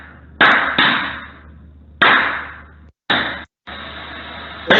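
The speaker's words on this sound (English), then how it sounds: "what you hear are all the prismatic cells bursting" Prismatic lithium-ion cells overcharging inside a sealed, riveted metal box burst in a series of sharp loud bangs, each followed by a decaying hiss, about five bursts spread unevenly over several seconds.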